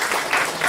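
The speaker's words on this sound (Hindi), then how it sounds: "जोरदार ताली मैडम के लिए।" Audience applause for a woman at a health talk, a steady dense wash of clapping that fills the whole short moment without a break.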